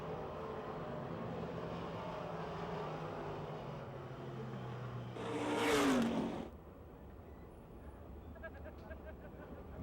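Race cars at Pennsylvania Motor Speedway accelerating as the green flag drops for a heat race, a distant engine roar that swells briefly in the middle and then fades, with a commentator talking over it.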